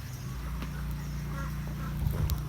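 Ducks quack faintly in a wet rural yard after rain, a low, quiet honking call rising briefly near the end over steady background noise.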